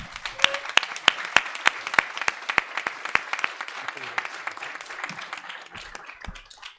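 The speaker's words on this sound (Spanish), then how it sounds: "yo para cerrar les pido otro aplauso para Luis." An audience applauds at the opening ceremony of a research congress, many hands clapping in a dense, steady burst with sharp individual claps standing out near the microphone, running throughout without speech.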